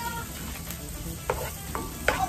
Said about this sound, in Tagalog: So, sibuyas at bawang pa lang po yung ating ginigisa